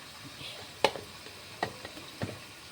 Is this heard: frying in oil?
yes